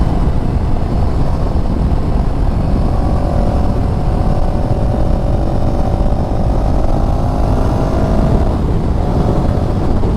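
CF Moto CLX 700 motorcycle pushed hard through an uphill curve, heard from the rider's position as a constant loud engine drone smothered in heavy wind rush, with a slight rise in engine pitch midway.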